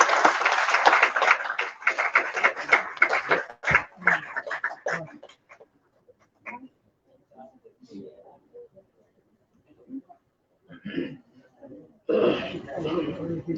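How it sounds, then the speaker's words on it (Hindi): An audience applauds at a function honouring a guest with a shawl, with a burst of clapping at the start that fades into scattered claps and murmurs, then returns briefly at the end. "तालियां बजती रहें।"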